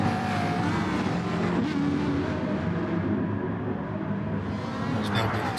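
Race cars in GT Sport at Autódromo de Interlagos, Brazil, one trying to overtake a Lamborghini, give a steady, close engine roar that runs the whole time with no break.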